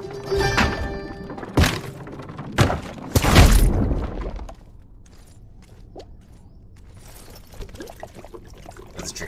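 Liquid pours in a drink refill within the Tails of Iron video game, led by several sharp thunks and a splashing gush, then a quieter tail of small clinks and trickles.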